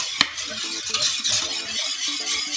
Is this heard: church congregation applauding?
no